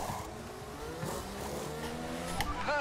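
Racing cars howl past at high speed along the pit lane in an F1 video game, producing a steady engine drone with rising and falling pitch sweeps as they go by.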